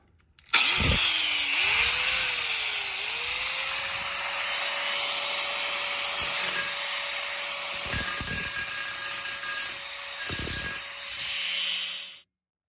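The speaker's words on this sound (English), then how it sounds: "The alternative to using a hacksaw is to use a angle grinder with a cutting wheel on it." A close, high-pitched angle grinder with a thin cutting wheel whines steadily as it cuts through metal, trimming a sliding closet door part to size, with a harsh hiss throughout and a few brief dips before spinning down.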